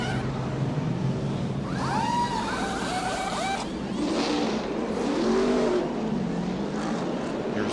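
NASCAR race cars roar off pit road at Phoenix, several engines revving hard and close together in a continuous loud blare with shifting pitch as cars pass.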